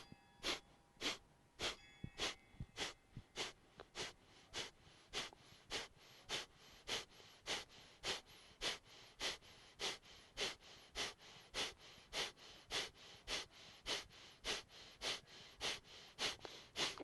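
Rapid, rhythmic forceful breaths pumped through the nose during a yoga breathing exercise, a steady run of about thirty sharp exhalations, close and loud, with no talking.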